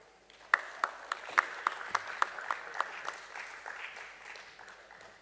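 Audience applauding at a company listing ceremony at the BSE, a brisk run of distinct claps standing out over a broader wash of clapping from the crowd.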